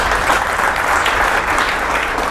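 A studio audience at a talk show with an army general claps in a loud, continuous, dense burst throughout, with no speech over it.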